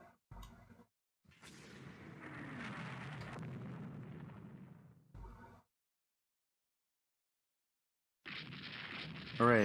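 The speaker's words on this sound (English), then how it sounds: "And we are taking a lot of gunfire now." Naval gunfire from the warship combat game Rule the Waves 2: several separate heavy booming bursts broken by silences, one long rumbling salvo in the middle and a sharp loud blast at the end.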